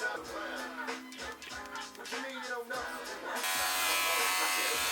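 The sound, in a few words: electric hair clippers cutting hair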